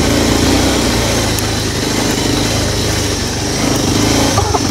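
A motorcycle engine drones steadily while riding along a rural village highway, loud and continuous with rushing road and wind noise throughout and no talk.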